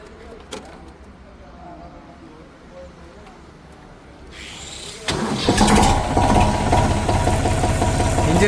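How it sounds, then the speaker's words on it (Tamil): A four-wheel-drive Eicher 485 tractor's diesel engine cranks and catches midway, then settles into a loud, steady, rumbling idle after quiet background noise. "இந்த இன்ஜினை வந்து ஸ்டார்ட் பண்ணி காமிக்கிறாங்க. சவுண்டு எப்படி இருக்குன்னு பாருங்கள்."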